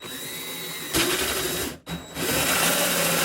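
A drill drives a 2.5 inch hole saw through a panel while installing a cabin air intake on a Tao Motor YK 200U. It whines steadily, cuts out briefly midway, then spins back up and keeps cutting.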